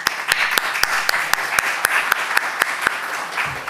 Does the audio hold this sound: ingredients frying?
no